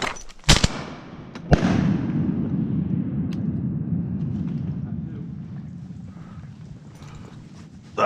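Shotguns fired during a duck hunt on a foggy morning, two sharp close blasts a second apart whose echoes roll away, followed by a low rumbling background.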